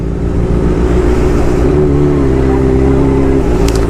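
A motorcycle ridden slowly, its engine a steady, loud low drone throughout with no clear revving, close and constant.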